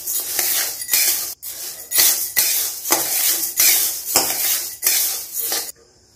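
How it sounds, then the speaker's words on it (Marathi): Sorghum (jowar) grain being stirred and dry-roasted in a thin iron kadhai over medium heat for thalipeeth bhajani flour, with repeated loud scraping sweeps and a steady rustle of grain against metal, no talking. "कढई तापली की एकसारखं हलवत राहावं, नाहीतरी खाली करपतं, लोखंडी कढई पातळ असते"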